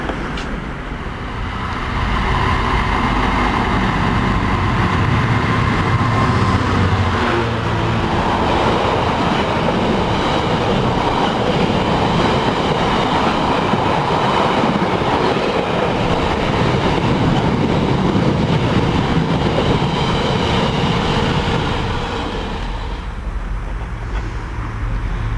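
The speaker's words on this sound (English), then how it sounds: "nearly every coach on that train had got a flat on its wheel" A passenger train whose coaches have flat spots on their wheels passes close by on welded track, a loud sustained roar of rolling stock and rumble that swells in and fades out at the end, with no clear talk.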